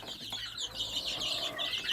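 Chicks peep in high, rapid, overlapping chirps, close by and steady throughout, with no talking.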